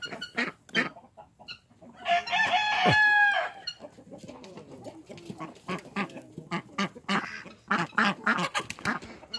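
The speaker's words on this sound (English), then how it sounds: "Young chicks." Young chicks and chickens at a historic farm cluck, peep and crow nearby, with a louder crowing burst early on and scattered bird calls throughout; no speech is heard.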